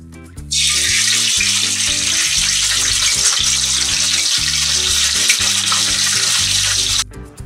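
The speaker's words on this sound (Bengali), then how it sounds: "এরপরে আমি এর মধ্যে এই মাথাগুলো দিয়ে ভেজে নেব।" Catla fish heads hit hot mustard oil and fry with a loud, continuous crackling sizzle that starts abruptly and cuts off near the end, close by and alone.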